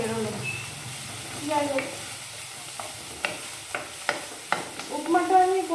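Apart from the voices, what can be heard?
curry leaves sizzling in hot oil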